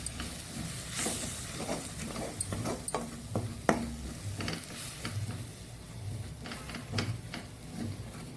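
Ajwain leaf (doddapatre) chutney powder mixture is stirred in a hot pan, making a run of dry scraping strokes and light clicks of the spoon against the metal, fairly quiet and without voices.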